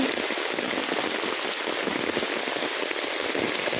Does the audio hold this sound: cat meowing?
no